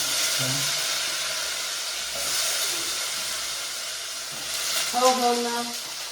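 Spiced vegetables hiss and sizzle steadily in hot oil in a home kitchen, a continuous close frying sound with a brief stir near the end.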